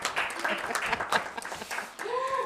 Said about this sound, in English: I think a well-deserved round of applause is appropriate